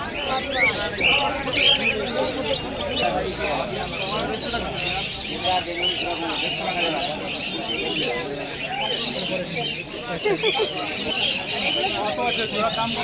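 Dense chirping and cooing of many birds fills a busy space, with people talking throughout.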